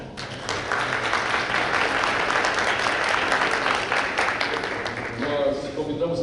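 Audience applause at a public event, sustained and dense clapping from a crowd that holds steady for several seconds before easing toward the end.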